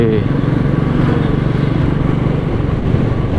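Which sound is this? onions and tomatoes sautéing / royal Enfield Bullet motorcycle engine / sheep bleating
royal Enfield Bullet motorcycle engine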